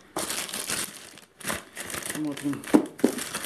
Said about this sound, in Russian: Шла распаковка омлетницы.